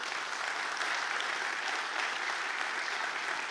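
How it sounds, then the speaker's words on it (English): An audience at a summit livestream claps in a dense, sustained wash that stays at an even level from start to finish, fairly soft and slightly distant. "This is your round of applause."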